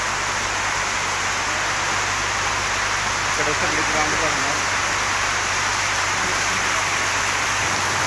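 Heavy rain pours over an open fairground with a stage and shops, a steady broadband hiss that fills the scene while someone talks nearby.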